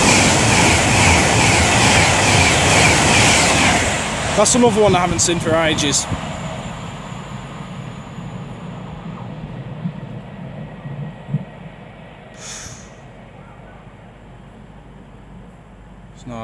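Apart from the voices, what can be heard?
Avanti West Coast Class 390 Pendolino train passing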